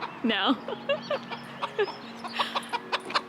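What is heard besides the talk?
chickens clucking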